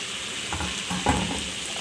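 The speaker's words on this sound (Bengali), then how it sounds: "এখন আমি এখানে আগে থেকে ভেজে রেখেছি তেলাপিয়া মাছ আমি দিয়ে দিচ্ছি" Pre-fried tilapia fish pieces are added to a pan of okra frying in oil without water, giving a soft steady sizzle with a few stirring clatters near the middle, close by and alone.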